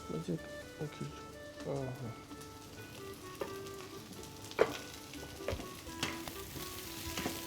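Onion, carrot and pepper fry in a pan for a vegetable stew, a soft, faint sizzle with occasional crackles and light stirring clatter while a person talks over it.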